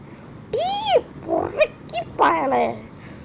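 A dog in the horror video game Ice Scream 8 lets out a series of short, sharp barks and yelps, close and loud, separated by brief pauses over faint background noise.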